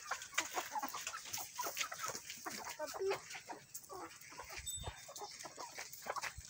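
Chickens cluck repeatedly in a farm field, a busy flock close by with short overlapping calls and faint background noise throughout.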